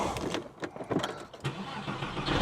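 A 996-generation Porsche 911 cranks and starts nearby, the engine catching with uneven bursts before settling, heard close and fairly loud.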